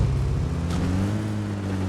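A car drives across a bridge in a video game, giving off a loud, steady engine drone with low tones that shift slightly in pitch as it goes, alone and without voices.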